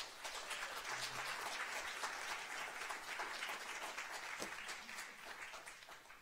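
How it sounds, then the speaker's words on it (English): An audience at a literary reading event gives sustained applause, a dense wash of clapping that stays steady for several seconds before easing off. "Please give them a round of applause."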